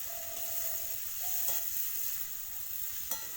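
Ridge gourd fries in a pan with gram flour, turmeric and salt, giving a soft, faint continuous sizzle with a few light clicks of stirring and no voices.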